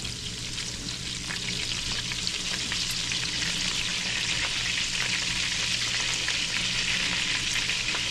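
Chicken francaise sizzles steadily in a butter and lemon sauce in a pan, a loud, continuous frying hiss with small pops and crackles and no talking.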